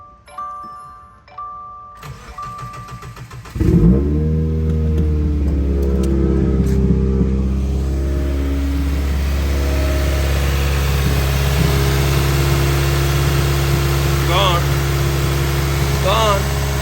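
A Subaru car engine cranks over and catches, then settles into a steady, loud, close idle that runs to the end; faint chimes sound before the start and a few light tones ring out over the idle later on.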